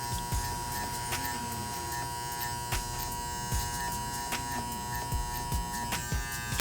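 Electric hair clippers with the guard removed buzz steadily at close range while cutting a high skin fade, a constant humming drone with faint irregular ticks and brushing sounds as the blades work through the hair.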